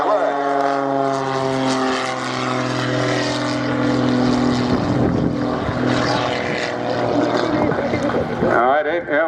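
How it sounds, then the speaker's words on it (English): A propeller aircraft flying low and close to the ground during an air display at Yeovilton Air Day, a loud droning engine with shifting pitch that sweeps past, while a commentator talks over it. "Look at that aircraft, absolutely outstanding control, so close to the ground."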